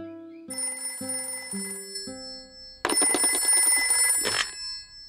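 A telephone rings in a Peppa Pig cartoon, with a series of bright electronic tones. The tones change pitch step by step, and then a denser, louder burst of ringing follows. No one speaks.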